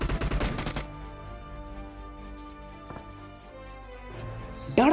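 Gunfire between police and players in PUBG Mobile: a rapid, loud burst of closely spaced shots at the start, a single distant crack later, and another sharp shot at the end over a low humming background.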